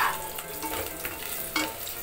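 Oil and a little ghee sizzle in a pan as onions fry and brown, with a soft crackling hiss broken by stirring scrapes and bursts of spatter. The sound is close and fairly quiet, with no talk.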